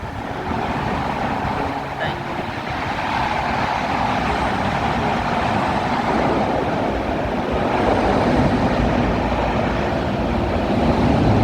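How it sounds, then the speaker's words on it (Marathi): A Konkan Railway train rushes past close by beneath a large well, a loud steady roar and rumble that swells slightly toward the end, filling the whole stretch. "आली ट्रेन आली आली"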